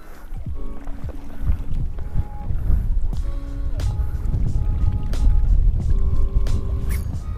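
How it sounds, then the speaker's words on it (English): Strong wind buffets a fishing boat on the water, a continuous low rumble of gusts and hull noise with scattered creaks, tones and knocks, close to the microphone and with no speech. "This wind's putting a beating on us."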